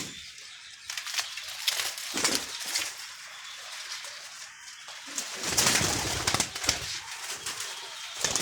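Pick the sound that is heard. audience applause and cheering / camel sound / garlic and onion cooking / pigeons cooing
pigeons cooing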